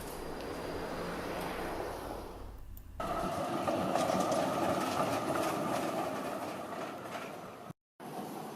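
A Melbourne tram rolls along its rails with a steady low rumble and faint rhythmic clatter, wind noise in the foreground, continuous and fairly loud, with a brief dropout near the end.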